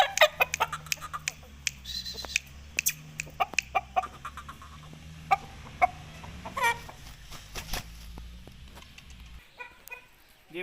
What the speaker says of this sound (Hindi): दूसरा मुर्गा मेरे हाथ में है, नहायत ही अच्छा खूबसूरत असील है